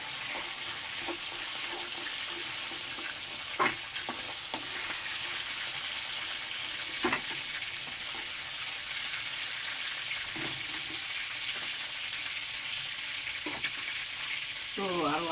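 Steady frying sizzle of fish pieces in oil in a pan throughout, with occasional sharper clinks and stirring sounds rising above the constant hiss.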